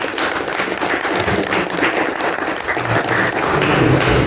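A crowd at a formal ceremony with speeches applauds steadily, dense clapping that stays loud and even throughout, with no talk over it.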